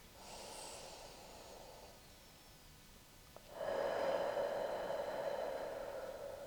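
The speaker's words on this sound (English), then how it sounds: "Two more deep breaths." Slow, deep breaths during a yoga strength flow, a soft airy inhale followed by a longer, louder nasal exhale after a short pause, close and without talk.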